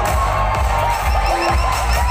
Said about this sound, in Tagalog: Lahat! Sabayan ng sigaw!